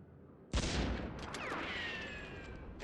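A burst of gunfire from the computer war game Squad Leader: a sharp report followed by a rattling volley and metallic ringing decay, fairly quiet overall with no talk.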